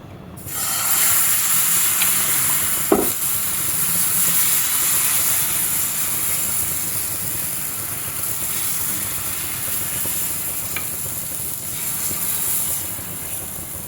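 Jowar flour chilla with mixed vegetables frying in a little oil in a pan, a steady, close sizzling hiss that runs evenly throughout with a faint tap or two, no voices.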